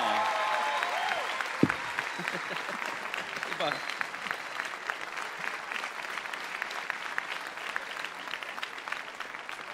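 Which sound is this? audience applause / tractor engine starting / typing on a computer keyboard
audience applause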